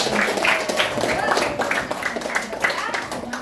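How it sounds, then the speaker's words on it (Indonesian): Classroom students clap together in a short burst of a few seconds, with a teacher's voice and pupils' chatter running over and between the claps. "Tepuk tangan dulu buat teman-teman."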